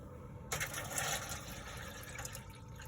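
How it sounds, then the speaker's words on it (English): Water is poured into the water pan of a Masterbuilt electric smoker, a soft splashing trickle that starts suddenly and continues steadily, quiet and close. "Now we're going to pour some water into our water pan."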